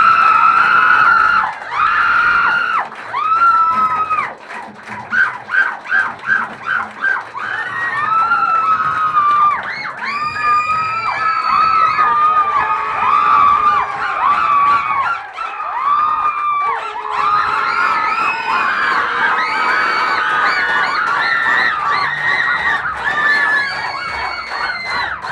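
A crowd at a job-posting celebration for a gold company manager erupts in loud, sustained cheering and high-pitched screams and whoops, continuous and close for the whole stretch, with brief dips near the start.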